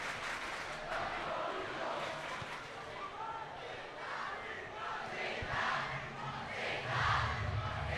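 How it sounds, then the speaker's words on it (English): Crowd noise from both fan sections at a high school Thanksgiving Eve basketball classic, Curtis vs St Peter's, a steady roar of cheering and shouting that swells toward the end. "we have the crowd on each side making respective noise, trying to outbid the other"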